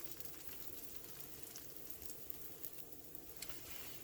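Pancakes sizzle steadily in a hot pan, a soft, constant crackle with occasional small pops and no talking.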